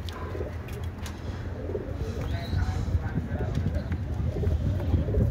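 Cockatiels kept in a home aviary call and chirp repeatedly in short bursts, close by, under a steady low rumble and some indistinct speech throughout.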